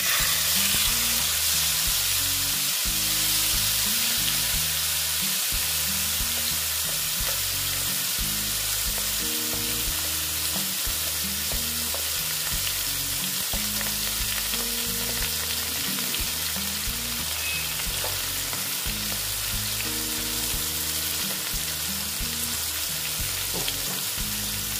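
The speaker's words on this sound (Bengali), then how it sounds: "মাছগুলো এইভাবে আস্তে আস্তে আমি ভেজে নেব।" Koi fish fry in hot oil with black cumin seeds in a pan, a loud, steady close sizzle running continuously with faint stirring and no talk.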